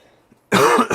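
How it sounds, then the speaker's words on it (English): A man with a cold lets out a loud, close cough burst after a near-silent pause, followed by a short second cough. "I'm suppressing my cough any way possible."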